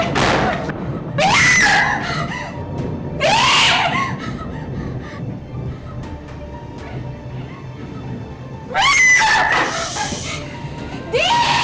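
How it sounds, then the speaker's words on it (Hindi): A woman in a Pakistani drama scene lets out three loud, piercing screams, two close together near the start and one more after a long pause, with quiet background sound in between. "चिल्ला रही हो?"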